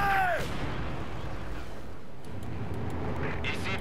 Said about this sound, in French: Grenade à fusil.